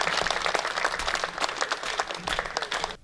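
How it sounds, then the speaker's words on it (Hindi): A crowd at a Hindi comedy poetry gathering applauds a poet, dense, lively clapping from many hands with raised energy, sustained for about three seconds before dropping away. "सर्वाधिक तालियां एक बार हाथ खड़े करके बजाइएगा अनिल चौबे जी के लिए"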